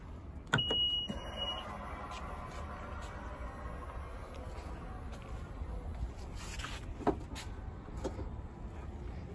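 A Honda car's rear seat being lowered: a sharp mechanical click and thud, then soft rustling and shifting inside the cabin, with a second clunk later over a quiet, steady background hum.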